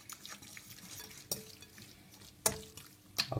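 A spoon mixing salmon rillettes with five-berry pepper in a bowl, faint soft stirring with a few sharper clinks against the dish, close and quiet, no talking.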